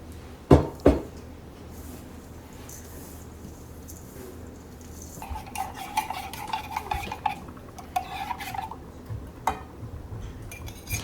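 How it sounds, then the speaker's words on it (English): Cold butter, flour, old-fashioned oats, salt and brown sugar are mixed in a bowl, with close scraping and clinking of a utensil against the dish after a couple of sharp knocks. "cold butter, a little bit of flour, and some old-fashioned oats, a pinch of salt, and a good amount of brown sugar, and then I get that mixed all together"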